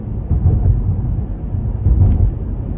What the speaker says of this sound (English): The first complaint is the pump engine noise, as you can hear on the launch.